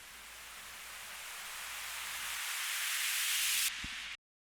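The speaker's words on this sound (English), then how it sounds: "Then we have the usual noise sweep." White noise swept upward through a bandpass auto filter in a music production session, a rising hiss that brightens steadily for about four seconds before cutting off abruptly.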